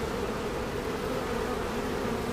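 Honeybees buzz steadily during a mid-June hive inspection, a continuous, close, even drone with no talking.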